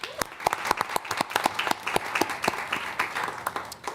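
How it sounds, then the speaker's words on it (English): Audience applause at a school board meeting, a steady patter of clapping hands from a moderate-sized crowd in an indoor room, fairly close and continuous. "Let's give them a round of applause."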